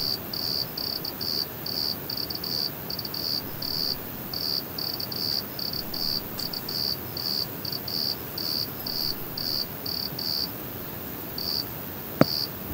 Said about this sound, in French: On entend le son de ce grillon très entêtant qui était près de la tente